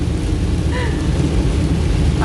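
Heavy storm rain pours down as a dense, loud, unbroken roar with a deep rumble underneath, steady for the whole stretch and without voices.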